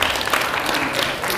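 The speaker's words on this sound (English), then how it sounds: "You can make a clap" A crowd at an evening speech event clapping in response to a question from the stage, a dense, fairly loud burst of many hands that stays level for its short length.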